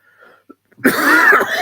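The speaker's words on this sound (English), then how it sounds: "It's a bit of a cold, a bit of a tickly cough." A single close, loud, tickly cough from a person with a cold, rough and drawn out, following a near-silent pause with a few faint small sounds.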